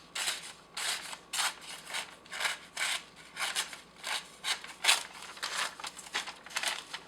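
Serrated knife edge being sharpened with repeated short rasping strokes, about a dozen scraping passes in a quick uneven rhythm, close and distinct with no talking.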